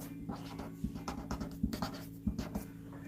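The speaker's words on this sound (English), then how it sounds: "Let me write this down for you." Pen or pencil writing on a piece of scrap paper, soft scratchy strokes in uneven bursts with a few sharper taps, close and quiet over a faint steady hum.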